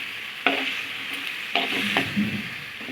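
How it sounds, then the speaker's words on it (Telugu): Small chopped tomato pieces go into a hot pan for tomato egg curry, a constant sizzle broken by three distinct scraping stirs against the pan, close and clear. "టమాటా ముక్కల్ని కూడా అందులో వేసేసుకుందాము వేసుకొని ఒకసారి కలిపేసుకోవాలి"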